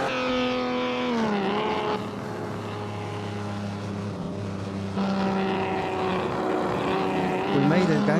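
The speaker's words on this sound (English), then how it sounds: "Sounds like a Ferrari, right?" A 1949 race car in the Assetto Corsa racing game, its engine droning and revving with shifting pitch, dropping and climbing through gear changes across a sustained run, with someone talking over it.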